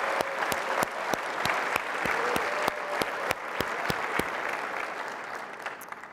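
Sustained audience applause at a Space Technology Hall of Fame awards dinner, a dense wash of many hands with a few sharp, distinct claps standing out, steady for several seconds before thinning slightly toward the end.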